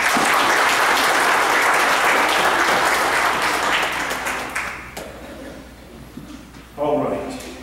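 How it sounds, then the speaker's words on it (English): A church congregation applauds in a sustained burst of many hands clapping, loud and dense for several seconds before thinning out, followed by a short quieter flurry near the end. "Let's give Thomas a round of applause."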